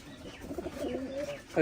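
At a pigeon farm, a single soft, rolling coo from a nearby pigeon rises and wavers for about a second, faint against the room with possible quiet talk around it.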